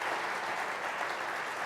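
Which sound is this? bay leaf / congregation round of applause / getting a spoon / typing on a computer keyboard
congregation round of applause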